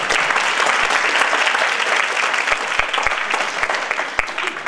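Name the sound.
applause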